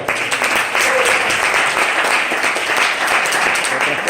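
A church congregation gives applause to the Lord during preaching, many hands clapping in a loud, continuous, crackling stream with no pause.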